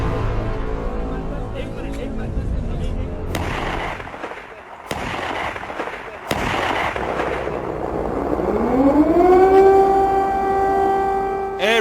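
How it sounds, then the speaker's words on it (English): Air raid sirens wail across Kyiv, Ukraine, at the start of the Russian invasion. The sirens rise and hold steady tones near the end, after sharp bursts and thuds, with voices heard in places. "Air raid sirens go off in Ukraine's capital Kiev as Russia launches a full-scale invasion of Ukraine."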